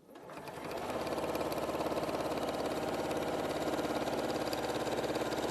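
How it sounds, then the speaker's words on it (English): A sewing machine stitching over quilting lines, starting up and settling into a steady, loud, rapid mechanical whir with even rhythmic clatter, close and alone with no talking. "I've sewn over all of the lines, and already I can feel just how plump that is"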